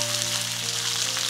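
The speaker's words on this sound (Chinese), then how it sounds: "锅里下刚才炸蒜子的油哈，鱼肉给它下锅，半煎半炸哈" Lionfish pieces half-frying in hot oil left over from frying garlic, a loud dense continuous sizzle and crackle close up, with a faint steady hum underneath.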